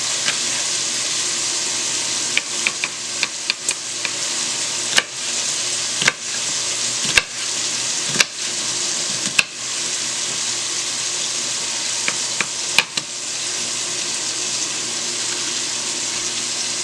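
Chopped bacon sizzles steadily in a pan, a continuous loud hiss with occasional sharp pops and crackles.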